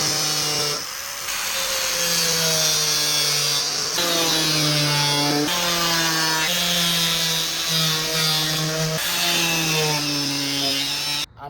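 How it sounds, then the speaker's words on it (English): A power tool cuts into the front bumper of a Toyota 4Runner to fit a lightbar, a loud pitched whine in repeated bursts several seconds long, broken by short pauses as the cut progresses. "I'll just need to cut bumper up"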